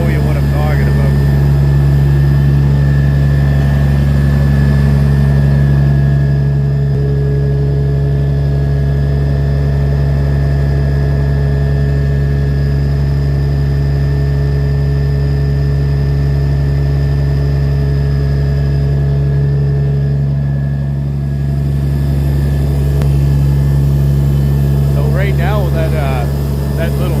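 A truck engine idles steadily with its PTO shaft spinning, a loud, close, constant low rumble with a droning hum that holds throughout, and a person talks over it.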